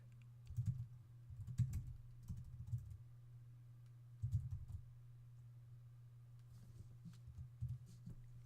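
Bursts of typing on a computer keyboard while entering account details on a website, faint clustered keystrokes separated by short pauses over a steady low hum.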